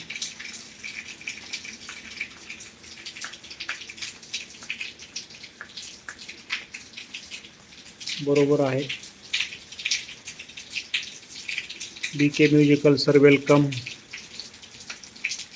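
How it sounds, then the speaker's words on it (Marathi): Heavy rain falls in Beed as a steady, even hiss that runs the whole time, while someone speaks briefly twice over it. "बघा सध्या पाऊस चालू आहे हा सहा वाजल्यापासून पाऊस चालू आहे"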